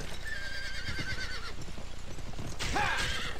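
Horse neighing and whinnying with hoofbeats in the western video game GUN, a loud whinny near the start and another near the end over a steady game background.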